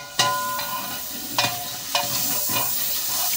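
Steady sizzling of onions frying in a pot for beef korma, with a few sharp clinks of a utensil stirring against the metal.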